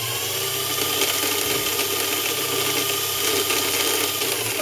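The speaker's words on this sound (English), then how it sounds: "You are then ready just to press on the presser foot and the bobbin to wind on" A sewing machine motor winds cotton thread onto the bobbin, a steady, close whirring hum with a faint mechanical chatter that holds evenly throughout, no voices.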